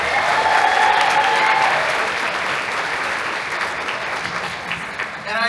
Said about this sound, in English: So let's have a round of applause for everybody on our team.